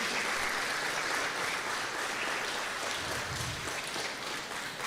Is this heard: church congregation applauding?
yes